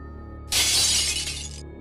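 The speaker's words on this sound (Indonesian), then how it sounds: "Suara kaca terjatuh dari arah dapur." Glass falls and shatters in a kitchen, one sudden loud crash with a bright spray of breaking shards that rings on for about a second before fading.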